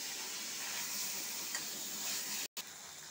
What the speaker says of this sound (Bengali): এবারে মাছগুলো একটু ভেজে নেব